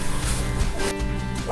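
A dog barks and yips close by amid a busy, noisy background, with faint human voices mixed in.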